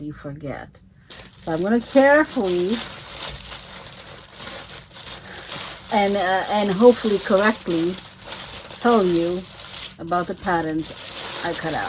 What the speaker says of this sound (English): that's the noise of my tracing paper because I am a big tracer